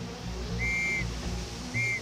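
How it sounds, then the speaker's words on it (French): Two bright, level whistle blasts from fountain workers signalling to one another in the Versailles gardens, one long and one shorter, standing out over a steady low rumble of running water. "chaque fontainier se prévenait avec des coups de sifflet"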